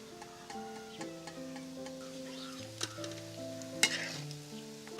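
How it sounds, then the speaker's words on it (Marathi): Vadas deep-frying in oil, a faint steady sizzle with a few sharp clicks and taps of utensils, while a tonal background of music plays underneath throughout. "थोडा वेळ आणखीन फ्राय होऊन देऊया."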